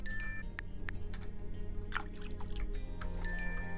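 Flowers are watered in the video game Blankspace, with soft splashing and dripping water over a low background hum, punctuated by brief bright chimes at the start and end.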